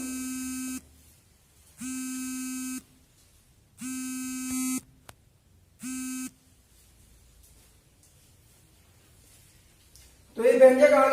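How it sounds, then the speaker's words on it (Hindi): A phone rings with an incoming call, four evenly spaced tonal bursts about a second each with pauses between them, loud and clear. A person starts speaking just after. "किसी का फोन आ रहा है बार बार"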